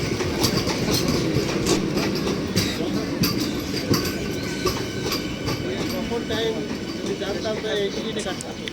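The Bongaon–Sealdah AC train passes at Machlandapur with a loud, continuous rail rumble, rhythmic clickety-clack of wheels over joints and occasional squealing, sustained for several seconds.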